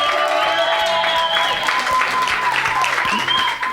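A church congregation applauds and cheers steadily, a dense wash of claps and voices layered over sustained tonal music or singing, loud and continuous throughout.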